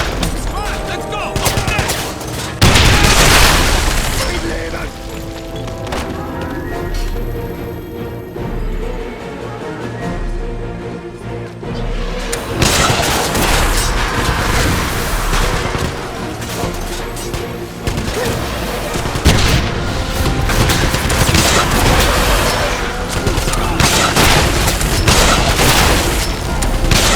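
Video game gunfire in Wolfenstein (2009): loud sustained bursts of rapid automatic shots and booming blasts, layered with battle noise and shouted voices throughout.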